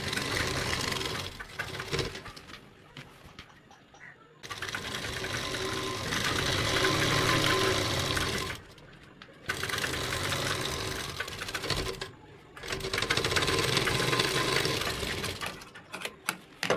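An overlock sewing machine runs in long steady bursts while seaming the legs of an Afghani salwar, a fast even whir broken by short pauses between runs.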